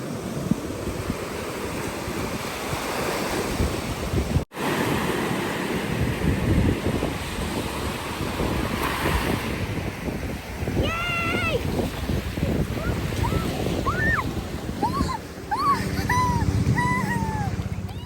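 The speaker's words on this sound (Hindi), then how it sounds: "I like my feet in the wave." Ocean waves wash steadily onto a beach at Destin, with constant surf and wind noise throughout, and a brief dropout near the middle; faint gull-like calls drift in toward the end, and voices briefly come through.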